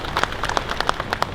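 Audience applause for a deputy chairman at an Ansor Banser troop assembly in East Java, a steady patter of many hands clapping with sharper individual claps standing out, fairly distant and even throughout.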